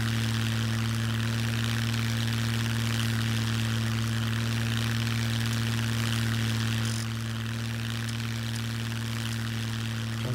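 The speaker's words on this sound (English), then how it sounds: "if you take off, and that deepens that plane engine," An airplane engine in the video game SCUM drones in a loud, steady hum with a strong low tone, dropping slightly in level partway through, with no voices.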